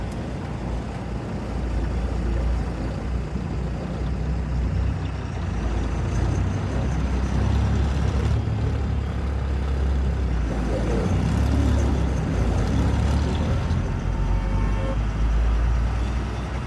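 An empty truck rattles along a rough, badly damaged road on a Visakhapatnam to Nagpur run, a loud continuous low engine rumble with road noise and cab vibration heard from inside, steady throughout.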